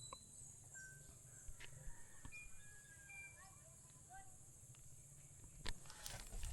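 Scattered birds chirp and whistle in short, faint calls across a mountaintop at Sitio Quitoba, set against steady wind-like background noise, with a louder rustle near the end.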